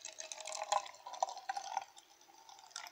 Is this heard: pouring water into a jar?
yes